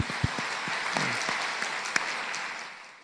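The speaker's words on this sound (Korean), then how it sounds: "오늘 귀한 우리 찬양 복음성과 귀한 사역자들에도 격려의 박수 한번 부탁합니다." Congregation applause in a church during a worship rally, a broad steady wash of clapping that holds for the full stretch and slowly tapers toward the end.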